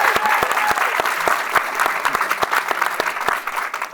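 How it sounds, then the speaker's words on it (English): An audience at a panel on working in television in New York gives a panelist a long, steady round of applause. Dense clapping from the crowd fills the room, with a few sharper claps standing out. "Let's welcome Destiny with another big round of applause."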